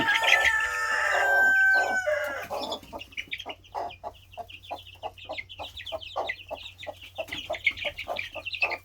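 A rooster crows loudly up close, followed by a rapid series of clucks and chirps from chickens and newly hatched Araucana-type (green-egg) chicks.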